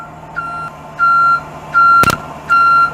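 Four evenly spaced electronic warning beeps sound loud and close as a conventional bus kneeler activates, with a brief mechanical clunk between the third and fourth tones.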